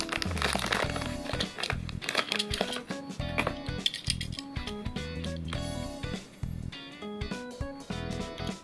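Cardboard protective packaging around a Tomica Historic Car Collection No. 10 Toyota MR2 die-cast toy car is torn and crinkled open, a dense run of close crackling, crunching and rustling over a steady tonal background.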